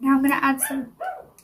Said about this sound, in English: I'm really sorry if you can hear a dog in the background.